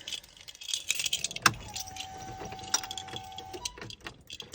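Car keys jangle and rattle close by, with a sharp metallic clink and scattered jingles before the car is started, while a faint tone hums steadily in the background.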